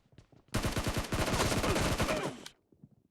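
Sustained automatic gunfire in the video game PUBG, a dense rapid burst of close, loud shots lasting about two seconds, with faint game voice callouts before and after.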